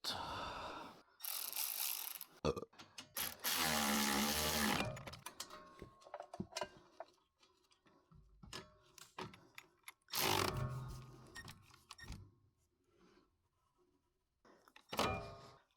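A ratchet loosening the bottom brake caliper bolt on a Ford Mustang during a front brake pad job, giving short bursts of rapid clicking separated by pauses and a few thunks, close and fairly loud.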